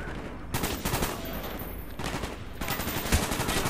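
Gunfire in Call of Duty: Black Ops, rapid bursts of shots in quick succession, loud and close, with short gaps between volleys.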